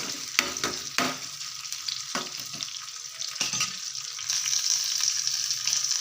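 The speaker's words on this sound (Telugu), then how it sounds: "అలాగే ఎండుమిర్చి వేసుకొని కలిపేసుకుందాం ఇవి కొంచెం రెడ్ అయిన తర్వాత" Dried red chilies frying and being stirred in hot oil in a pan, a steady close sizzle with sharp scraping stirs near the start and middle, alone without talk.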